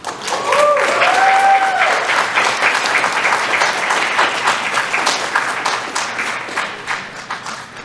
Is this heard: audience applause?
yes